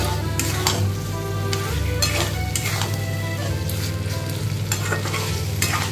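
Spiced masala for egg and potato dalna fries noisily in a pan, with repeated scraping stirs cutting through a constant sizzle and a low stove hum.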